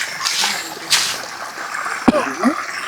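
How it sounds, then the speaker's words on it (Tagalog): A strong current of water rushes down from higher ground past wood debris in a remote rural area, a steady close roar with a sharp splash partway through. "lakas ang agos ng tubig oh."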